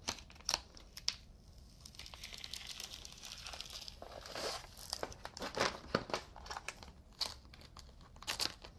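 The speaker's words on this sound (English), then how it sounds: "I can go ahead and peel this paper off." Backing paper peels off a vinyl decal in a run of crisp crackles and crinkles, close and fairly quiet, with short bursts spread across the whole stretch.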